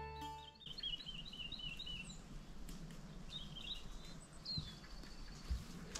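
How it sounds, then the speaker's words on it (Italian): Birds sing and chirp with repeated high calls around an old oak tree on a mountain in Barete, Italy, over a steady outdoor background hum, with no talking. "Ascoltate, si sente solo il canto degli uccelli."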